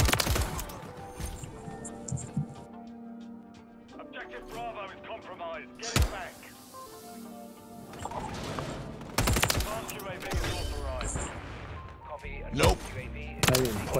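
Gunfire in the Call of Duty Modern Warfare 3 video game, scattered sharp shots and bursts over a dull background, with quieter clicks and mechanical sounds between them.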